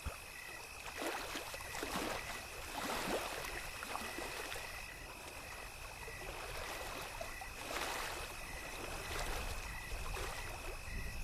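Oars dip and pull through the water as a small boat is rowed in a Bangla cartoon. Soft rhythmic splashes sit over a steady watery wash, with a thin constant tone running underneath.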